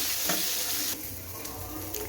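Ground green peas fry in a kadai while being stirred, a close, hissing sizzle with scraping bursts of stirring that dips and swells over a couple of seconds, no one talking.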